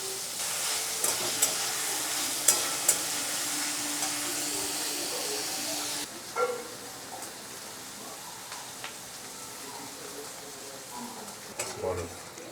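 Carrots and other vegetables for chow mein stir-fry in a hot pan, giving a loud steady sizzle with scattered stirring clatters that cuts off midway, leaving a quieter hiss and a few clinks.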